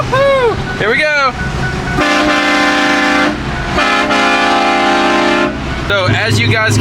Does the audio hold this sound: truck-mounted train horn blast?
yes